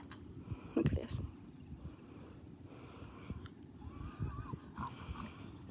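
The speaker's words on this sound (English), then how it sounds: "We just got a horse over here." A horse in a big purple halter gives a short neigh near the one-second mark, close by, with some shuffling hoof movement and someone talking softly around it.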